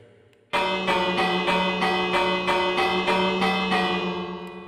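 A bell in the Minecraft video game rings loudly and rapidly, with about eight even, repeated metallic strikes that start abruptly and ring on before fading slightly.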